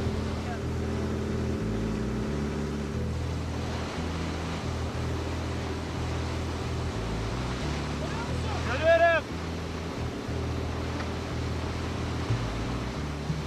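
Fishing boat engine running at full throttle while chasing fish at sea, a steady droning rumble throughout with shifting low tones, and a brief shout partway through.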